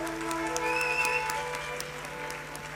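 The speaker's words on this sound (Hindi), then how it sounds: "जोरदार तालियों से हम स्वागत करते हैं श्री हेमंत कुमार महाले जी का" An audience at a Sufi song concert applauds as a guest is welcomed onstage. The clapping is fairly faint and diffuse, blended with steady tonal music or hum throughout.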